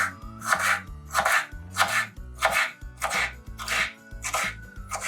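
A knife chops ginger into small pieces on a board for Kerala sadya inji curry: about eight crisp, evenly spaced chops, close and loud, with no voices.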